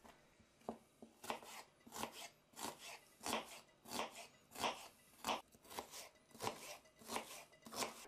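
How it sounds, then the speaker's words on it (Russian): Quick, even knife chops through onions on a cutting board, a steady run of crisp taps, faint and close, with no voices. "Две луковицы нарезаю мелко."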